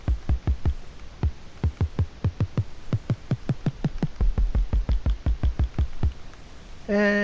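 Minecraft note block on a stone block, roughly thirty sharp, low percussive thumps in a steady run, some quick and some spaced, ending with a brief tonal blip.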